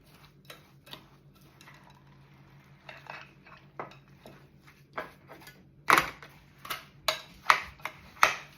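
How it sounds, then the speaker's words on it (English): Butter being stirred into a mincemeat mixture for Christmas, with spoon clinks and knocks against the bowl that start sparse and soft, then grow louder and more frequent near the end. "So I'll just give this a good stir."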